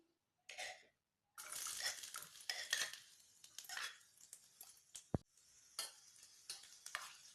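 Chopped onion hitting hot oil in a small pan for egg bhurji, a close sizzle with stirring and scraping clatter, sputtering on and off throughout.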